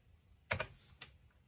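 Keys tapped on a Commodore 64 keyboard: a quick pair of clicks followed by one more keystroke, close and fairly faint in a quiet room.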